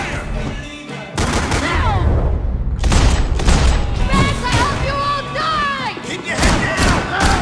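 Bursts of rapid gunfire and heavy thuds from the video game Max Payne 3 crackle through a chaotic firefight, with shouted voices calling out over the shots.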